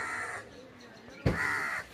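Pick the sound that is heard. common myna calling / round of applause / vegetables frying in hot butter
common myna calling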